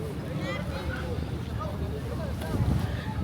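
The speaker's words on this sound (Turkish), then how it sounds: "Burada beni duyamazsınız. İnanılmaz bir rüzgar var çünkü." Heavy wind buffets the microphone with a low, rumbling roar throughout at Galataport, Istanbul, while faint voices can be heard beneath it.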